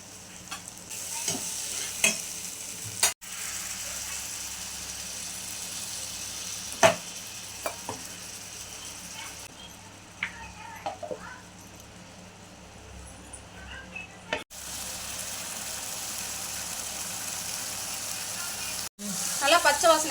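Curry with turmeric and chili powder fries softly in a pan while a spoon stirs and scrapes in repeated strokes, the gentle sizzle continuing between occasional sharp clicks.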